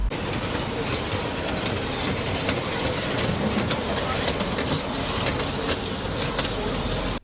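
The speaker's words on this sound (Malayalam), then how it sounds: "പാലക്കാട്ടെ ഒയിസ്ക മുനിസിപ്പൽ ചിൽഡ്രൻസ് പാർക്കിൽ കുട്ടികൾക്കുള്ള ടോയ് ട്രെയിൻ ഓടിത്തുടങ്ങി." A toy train runs through a municipal children's park in Palakkad, giving off a steady, close rumble with rhythmic wheel clatter that continues unbroken throughout.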